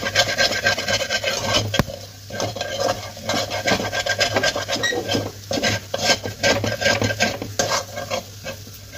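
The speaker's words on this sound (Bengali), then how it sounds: "এবার এটাকে ভালোভাবে নেড়ে নেব" Kulcha dough mixture with salt and sugar is stirred and scraped hard in a pan, a continuous close rasping, rubbing rhythm with faint sizzling underneath and no voices.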